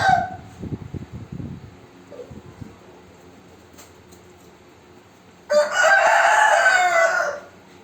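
Chickens in farm cages cluck softly at first, then after a quiet stretch a rooster crows loudly and clearly nearby.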